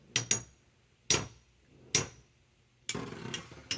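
A few sharp metallic clinks of stock Beyblade spinning tops, including Rock Leone, striking each other metal on metal despite a height difference, spaced apart, followed by a brief rattling scrape; close up, no voices.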